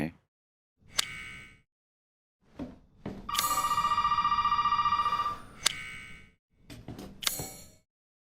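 An old-fashioned telephone rings in the Resident Evil 7 horror game, a bright metallic bell trilling continuously for about two seconds, with short clanks and faint footsteps or movement sounds before and after it.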